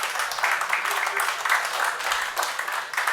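An audience at a stand-up comedy show bursts into applause, a dense, steady wash of clapping lasting a few seconds.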